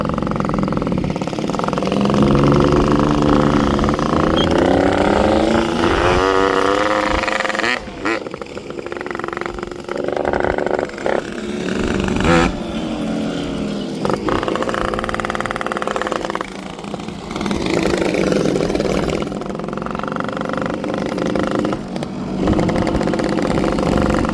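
A Volkswagen Polo with a ported exhaust drones and rumbles continuously, its engine note rising and falling with throttle, loud and close throughout, with some voices mixed in.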